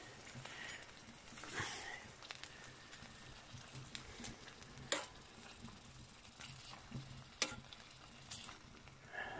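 Rump steak frying in a hot titanium pan outdoors beside a lake: a soft, steady sizzle and crackle, quiet, with occasional light scrapes and ticks.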